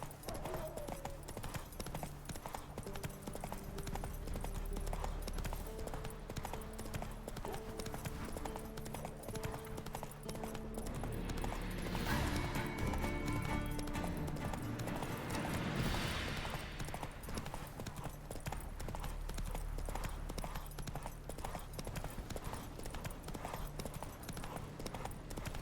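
Hooves of Geralt's horse Roach in The Witcher 3 beat a steady, continuous clip-clop rhythm throughout, mixed under game music and ambient sound at moderate level.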